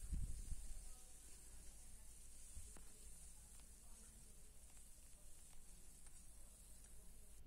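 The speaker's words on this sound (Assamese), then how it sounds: "তাত গোটা জিৰা আৰু পিঁয়াজ দি ভালকৈ ভাজি ল'ম" Cumin seeds and chopped onion fry in hot oil for an Assamese fish curry, making a steady, soft, close sizzle that runs throughout, with a few faint stirring clicks.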